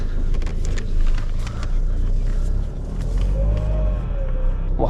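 A turbocharged engine on a big machine starts and settles into a loud, rumbling idle close to the microphone, with wind buffeting and a faint rising whine near the end.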